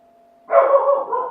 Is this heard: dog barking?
yes